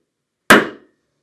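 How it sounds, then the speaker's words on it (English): A hammer delivers one solid blow to a metal letter stamp held on a stamping blank, a single sharp, close metallic crack that rings briefly and dies away into silence. "I'm going to give it one nice solid hammer."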